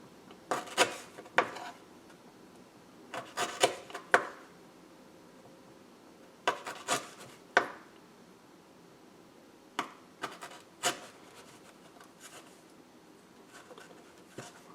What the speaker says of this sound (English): I'll probably just take this little nodule here and I'll cut off the frayed end. And I'm just going to do a few slices.